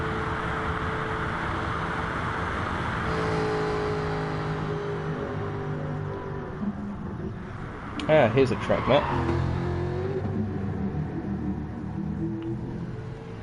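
Racing cars lapping Spa-Francorchamps in a sim racing game, a steady engine drone running beneath a commentator's voice, with a brief louder burst of mechanical noise partway through.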